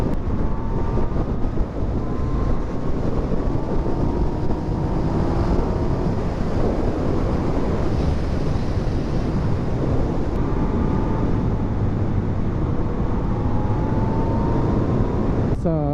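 A Yamaha MT-09 motorcycle engine revs and accelerates hard, its rising whine buried under heavy, constant wind buffeting on the microphone.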